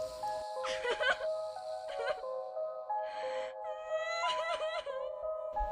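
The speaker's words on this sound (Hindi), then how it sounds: "एक बच्चे के रोने की आवाज आई" Baby crying in a horror story set in a morgue, heard as several wavering, whimpering wails in short bursts over a soft steady tone, faint and eerie.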